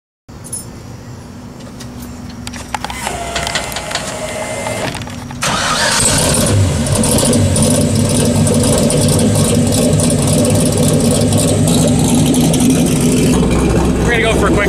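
A car engine cranks and fires, settling into a steady, loud idle that holds close by, with a rougher step up in rumble partway through; people talk faintly early on.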